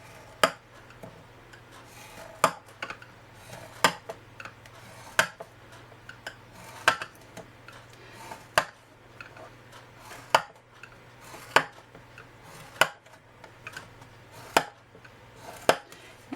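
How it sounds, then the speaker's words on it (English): Cardstock is scored on a scoring board every half inch, giving sharp, evenly spaced clicks or taps about every second, with soft scraping between them over a faint low hum. "I scored this on the long side every 1/2 inch"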